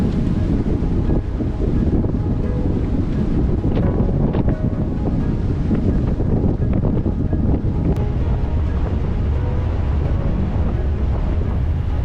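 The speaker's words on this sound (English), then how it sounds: "Wind was in upper 20s with lots of white chops." A sailboat in the San Francisco Bay, with wind in the upper 20s and whitecapped chop: heavy roaring wind buffets the microphone constantly over the wash of waves and hull, loud and unbroken, with no talking.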